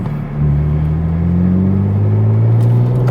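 A McLaren Artura's 3.0-liter twin-turbo engine idles while cooling down after a drive on Genting, a loud close steady hum with a slowly shifting low drone and no talking.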